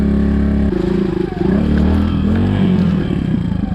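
A Suzuki DR200 dual-sport motorcycle riding offroad, its engine droning loud and close with a dip in revs partway through, then pulling again.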